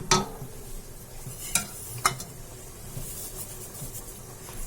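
Kasuri methi being stirred into a simmering curry for malai kofta, a few soft scraping strokes and light taps of the spoon over a steady low sizzle, moderately close.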